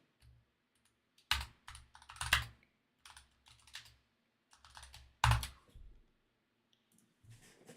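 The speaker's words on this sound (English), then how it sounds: "Let me type this." Computer keyboard typing in close, irregular bursts of clicking keystrokes separated by short pauses, with no talking.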